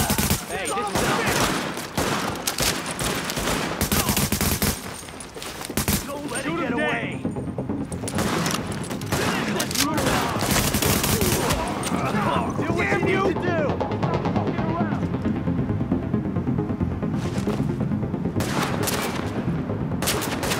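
Rapid bursts of automatic gunfire and explosive shots crack through a shootout in The Division, dense and loud, with game voices and music underneath.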